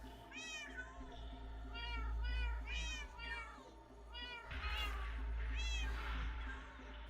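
Minecraft cats meow from the game, about six short, high mews in a loose series over a steady low background hum. They are clear and fairly close, with no talk over them.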